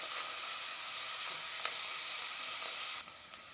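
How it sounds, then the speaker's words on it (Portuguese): Onion sautéing in a pan with an occasional stir makes a bright, continuous sizzle. The sizzle thins and drops in level near the end, and no voices are heard. "Eu vou pôr a cebola. Vai dando uma mexidinha para dar uma esbranquiçada a cebola"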